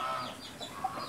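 Chickens cluck faintly on a rural family farm in Mempawah, West Kalimantan, short soft calls over a steady outdoor background.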